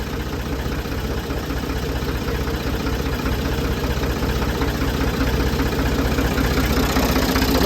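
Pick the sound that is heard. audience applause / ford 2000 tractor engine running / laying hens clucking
ford 2000 tractor engine running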